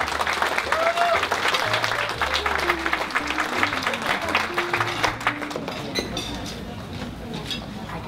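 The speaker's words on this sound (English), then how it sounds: "Please give him a warm round of applause." An audience at an Asian Real Estate Association of America event in Boston claps steadily throughout, a dense, continuous round of applause, while a voice speaks faintly beneath it.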